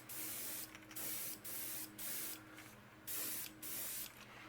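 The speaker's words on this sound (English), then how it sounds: "I'm doing it at an angle so the overspray comes down the side of the body." An airbrush or spray paint hisses in short, quiet, even bursts onto the body of a sunfish-pattern fishing lure, about seven puffs at a steady rhythm.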